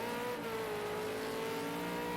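A V8 Supercar engine in a sim racing game, a steady loud high-pitched race-engine whine holding near one pitch with a slight drop, alone without talk.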